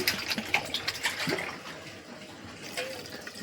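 Water poured into a pressure cooker over dal for a lentil dish, a soft broadband gush with splashy bursts early on that thins toward the end, close and moderately loud with no talking.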